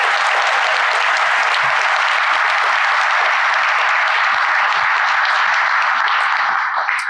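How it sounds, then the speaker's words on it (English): Loud, sustained applause from a room full of guests honoring award recipients at a college football awards luncheon, a dense wash of clapping that holds steady throughout without talk, then eases slightly at the end. "How about one more round of applause for these honorees?"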